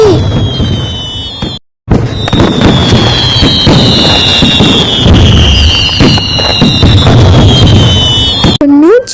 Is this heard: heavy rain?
no